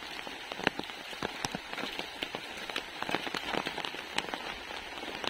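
Rain falling steadily outdoors, a dense patter with sharper drops striking a surface, soft and continuous without speech.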